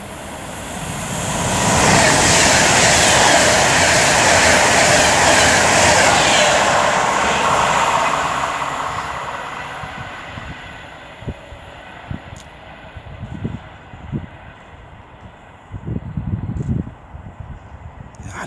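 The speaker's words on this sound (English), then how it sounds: "now about to pass by with 390039, Lady Godiva" Class 390 Pendolino 390039 passing through Lichfield Trent Valley station on the West Coast Main Line, a loud rising rush peaking over several seconds, then fading, followed by scattered thumps and rattles.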